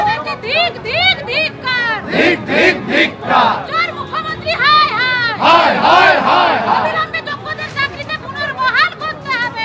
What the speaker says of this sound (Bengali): এখানে যে জমায়েত করে তারা স্লোগান দিচ্ছেন সেটা শোনা